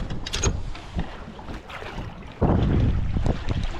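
Strong, gusty wind buffets a boat out on Lake Norman, roaring steadily across the microphone and surging much louder partway through, with water slapping underneath.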